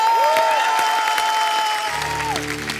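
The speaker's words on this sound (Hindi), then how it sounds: "तो चलिए आप सबकी जोरदार तालियों के बीच उन्हें बुलाते हैं।" A studio audience at The Kapil Sharma Show applauds loudly and continuously, the dense clapping carrying on beneath sustained musical tones and a bass note that enters near the end.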